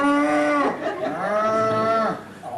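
Cattle moo in a barn at feeding time, two long, loud, close lowing calls, one right after the other.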